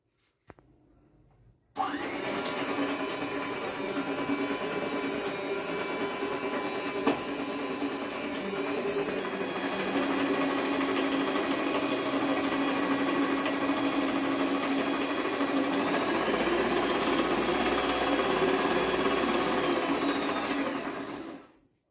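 An electric stand mixer creams butter, sugar and oil with vanilla for a cake batter, starting abruptly with a steady loud motor whine and mechanical hum that runs evenly for about twenty seconds before cutting off.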